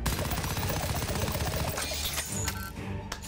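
Turret machine gun in South Park: The Fractured But Whole, firing rapid continuous bursts that fill the first half, then thinning into scattered sharp shots and clatter.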